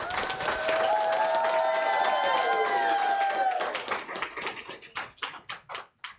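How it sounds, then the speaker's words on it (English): Audience applause at a school district governing board meeting, a dense steady clapping that fills the room for several seconds before thinning into scattered claps and fading out. A few voices are heard briefly during the clapping. "So one more round of applause."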